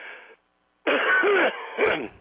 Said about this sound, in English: It's the old steel mill cough after